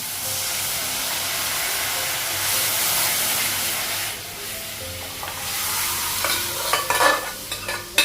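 Chicken pieces go into a hot pan and are stirred, giving a loud, steady sizzle and hiss that turns into clattering scrapes and bumps of a utensil near the end, with no voices.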